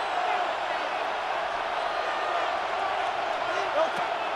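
Crowd noise in the Madden NFL 26 video game before a third down, a steady broad roar of a stadium crowd holding at an even level for a few seconds, with a faint brief whoop near the end.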